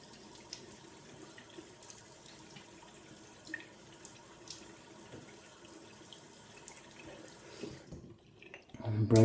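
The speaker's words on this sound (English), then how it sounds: "So let me get my face wet." Tap water runs softly and steadily into a sink while someone wets their face, a faint continuous wash ending in closer splashing at the very end.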